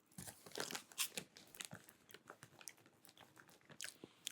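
Close, crisp crunching and biting of Cheez-It Puffs being chewed, in irregular bursts with no talking.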